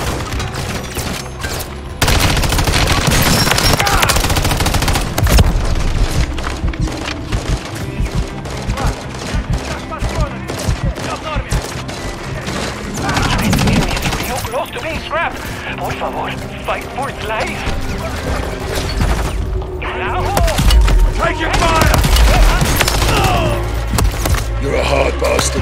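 Gunfire in Call of Duty Modern Warfare 3 Zombies on Xbox Series X, dense rapid bursts and volleys of shots with crashes, loud and continuous, with voices calling out amid the fire.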